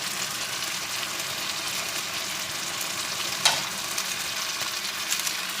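Chicken pieces roasting on a stovetop pan, giving a steady, even sizzle and hiss that fills the whole stretch, with one sharp spatter or clink midway and a few small pops toward the end.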